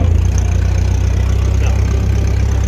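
A 1957 Ferguson 35 TVO tractor engine runs in top gear, a loud, close, steady low throbbing drone with an even rhythmic pulse throughout.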